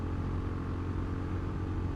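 A Honda GB350S motorcycle engine while riding, a faint, even mid-low engine hum with steady rumble throughout.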